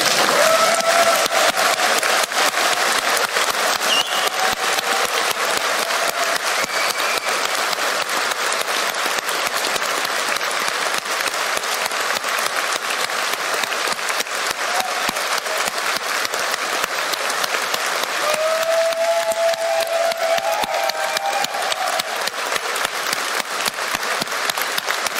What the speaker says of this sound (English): Can everyone who hasn't put their hand in the air now applaud?